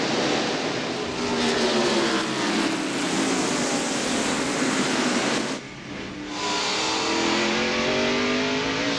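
A field of NASCAR Winston Cup stock cars roars past at Martinsville at the start of the 1996 Goody's Headache Powder 500, a loud sustained engine drone with a brief dip before the roar swells again.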